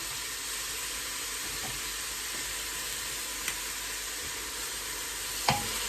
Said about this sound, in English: So all we do is stir often because we want the onions to go translucent, but we do not want them browning.